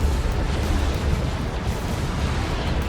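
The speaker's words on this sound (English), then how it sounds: "Big old nuke from zeetorq." Nuke blast in the Warhammer 40,000 strategy game Dawn of War 2, a loud sustained rumbling roar that stays dense and heavy throughout.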